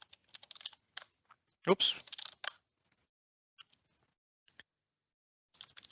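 Fingers tap a password on a computer keyboard, scattered key clicks and short bursts of typing, with a brief spoken exclamation in the middle.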